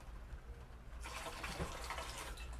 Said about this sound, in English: Pour some in your bowl.